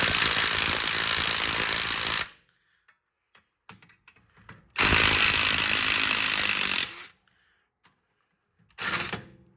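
Hammering on a corroded rear hub assembly of a 2012 Ford Explorer to knock it loose, heard as three loud, harsh bursts of rapid pounding, close by, with quiet gaps between them.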